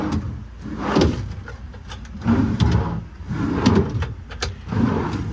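Metal ball-bearing tool drawers on a 2016 Ford F550 service truck roll open and shut several times with a smooth rumbling glide and soft clunks, close by and moderately loud.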